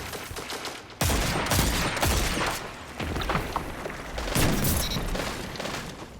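Rapid gunfire in a Destiny 2 Crucible match, with dense bursts of shots and heavy booms running almost without a break, loud and close throughout.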